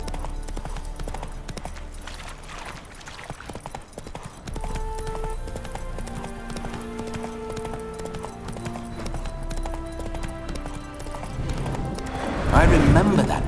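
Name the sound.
horse hooves, Roach, in The Witcher 3 video game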